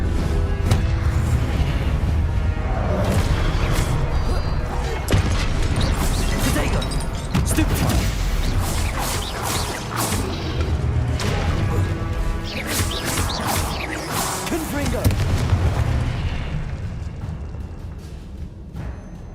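Confringo blasting-spell explosions in the Hogwarts Legacy game, a dense run of loud repeated booms and crashes with crackling debris over a continuous game soundtrack, with a voice calling out spells now and then.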